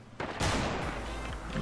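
Sniper rifle gunfire in Fortnite Battle Royale, a couple of sharp loud shots with a rumbling tail, close and without talk.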